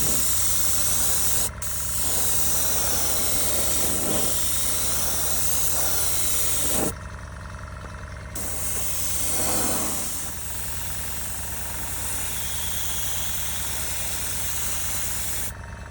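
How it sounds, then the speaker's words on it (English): An airbrush spraying iridescent blue paint onto a Tamiya RC Toyota Supra body, a steady close hiss running almost continuously, briefly cutting off and resuming in a few places. "once the body's clean, we're going to airbrush this one"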